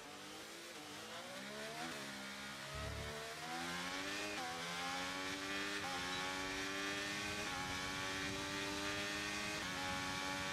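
Race car in a racing video game at Abu Dhabi, engine revving and shifting through gears with a brief brake lock-up and tire squeal, loud and continuous, no talking.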